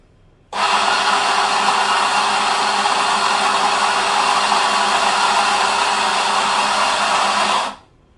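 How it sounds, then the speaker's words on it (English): Lelit Mara X espresso machine pulling a 14 gram shot with a puck screen fitted: a steady, loud, even mechanical hum and hiss starts abruptly, holds for about seven seconds, then cuts off. "now let me pull another shot at 14 grams, now with the puck screen on"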